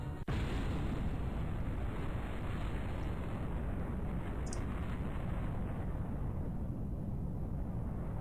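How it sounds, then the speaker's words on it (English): A single sharp blast from a battle in the game Epic Battle Fantasy hits right at the start, followed by a long, steady rumbling roar that fills the rest of the stretch without talk. "That's a small explosion."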